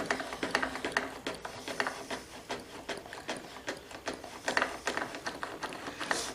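A hand vacuum pump is worked in quick, repeated strokes, each giving a soft ratcheting click close by. It draws a rising vacuum on a chamber holding wooden knife scales, with no talk.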